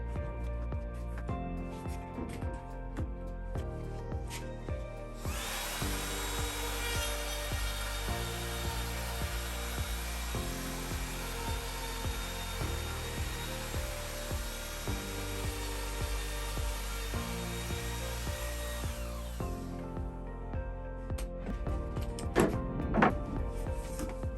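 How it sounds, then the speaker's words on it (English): A router cuts loose tenon slots into the edge of a wood panel with a PEANUT jig, producing a loud, steady high-pitched whine for about fourteen seconds over continuous background music, with quieter handling noise before and after. "When routing your loose tenon slots on the edge of the panel, make sure you are comfortable using the router."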